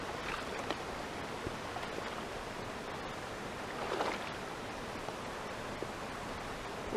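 Barefoot wading across a small creek on Oklahoma's Horsethief Springs Trail, with steady broadband rushing water and a brief louder splash near the middle, close by and without speech.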